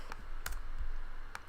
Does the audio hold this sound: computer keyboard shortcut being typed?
yes